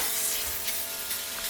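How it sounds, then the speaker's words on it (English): Cleaner spritzed from a spray bottle during household cleaning, a soft continuous hiss lasting about a second and a half with a couple of brief puffs, close but quiet. "I spray this"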